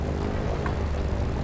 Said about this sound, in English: now that I got my plane that's halfway in the air